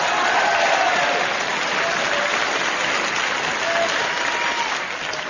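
Applause played from a gramophone record in a radio comedy sketch: a dense, steady wash of crowd clapping with a muffled, band-limited quality, holding level for several seconds.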